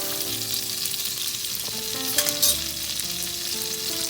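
Minced garlic and red pepper flakes sizzle steadily in a pan for shrimp scampi, a continuous close frying hiss with a brief louder crackle partway through and no talking.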